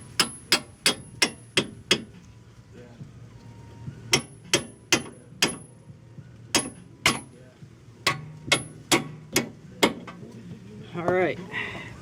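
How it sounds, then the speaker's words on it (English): A hammer taps a long bolt through the rear brake knuckle of a 1991 Honda Accord CB7 during a disc brake conversion, giving sharp metallic strikes in bursts of steady rapid blows with short pauses between them. A voice is briefly heard at the end. "Might need to tap it with a hammer."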